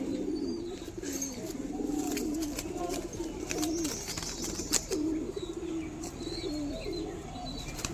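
A female biscuit-colored pigeon cooing, repeated soft warbling coos close by, with light chirps and a few sharp clicks in the background.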